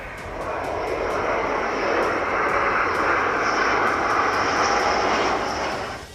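Rafale fighter jet engine roar, a loud, steady, continuous rumble and hiss that holds for several seconds without a break, with faint higher whistling tones on top.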